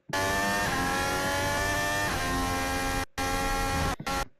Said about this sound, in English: you would hear the engine revs build